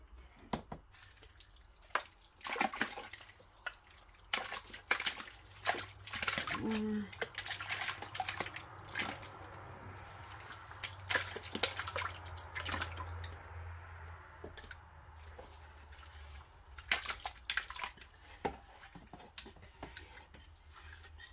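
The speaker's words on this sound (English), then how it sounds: "That gets washed up." Water runs and splashes as a container caked with reclaimed clay slop is washed out, with irregular knocks, drips and sloshing bursts over a low background hum.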